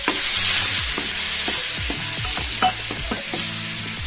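Chopped tomato sizzles and fries in a hot pan for Maggi noodles, with repeated scraping stirs of a spoon against the metal cutting through a steady frying hiss, close and fairly loud.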